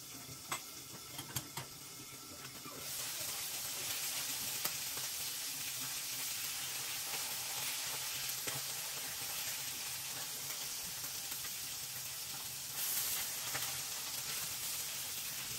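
Pork frying in a pan for a Filipino sautéed shrimp paste appetiser gives a steady hiss of sizzling oil that rises in volume after a few seconds, with faint utensil taps early on.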